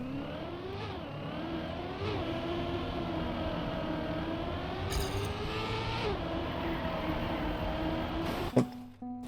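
A car engine in the racing game Trackmania drifting around a track, its steady buzzing whine rising and dipping in pitch through the slides, with a short sharp click near the end.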